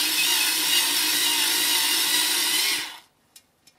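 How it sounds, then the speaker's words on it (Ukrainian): A small Chinese screwdriver with a built-in light whirs steadily and loudly for about three seconds like a tiny power tool, then cuts off, leaving a few faint clicks. "За рахунок того, що викрутка маленька, і ще й підсвітка є"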